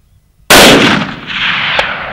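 A single loud hunting rifle shot cracks out on a South African safari hunt after a moment of near silence, followed by a long rolling echo that decays across open country.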